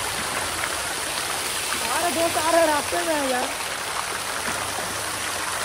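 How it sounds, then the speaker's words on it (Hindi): Water pours down on both sides of a path at Deul Park eco resort in Durgapur, West Bengal, making a steady, even rushing wash like a stream, while a person talks over it. "पानी दोनों तरफ गिर रहा"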